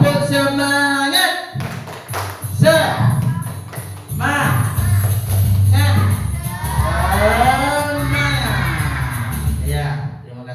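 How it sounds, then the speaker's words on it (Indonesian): Classroom group of students doing a rhythmic spirit clap, sharp patterned claps mixed with chanting and shouting voices, loud and close, with a teacher's voice leading in between. "Tepuk semangat."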